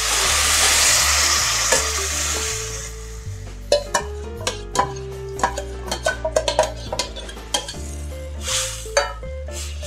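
Cooked dal tipped into a hot pan and stirred, a loud sizzle at first, then a spoon scraping and clinking against the pan in quick irregular strokes, close by with no talk.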